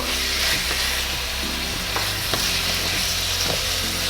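Orzo with marinated sun-dried tomatoes, garlic and dill sizzling hard in a hot skillet, a dense continuous fry broken by a few soft scraping tosses of the pan.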